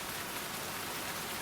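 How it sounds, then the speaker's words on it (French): Rain pours down in a dense, unbroken hiss that fills the short stretch evenly, heavy and close, with no voices over it. "Mais il pleut tous les jours ici."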